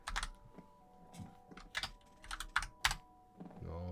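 Someone types on a computer keyboard in quick uneven bursts of clicks, close and fairly quiet, with short pauses between the bursts.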